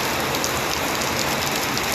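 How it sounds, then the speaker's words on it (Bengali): Heavy rain pours down steadily in a dense, even hiss that stays loud and unbroken throughout, with no voices over it. "মুষলধারে বৃষ্টি।"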